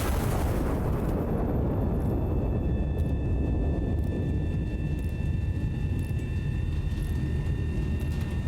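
A big artillery gun fires once in Big Ol' Gun Sim, a loud boom at the start that rolls off into a long, rumbling decay with a faint mechanical whine hanging underneath.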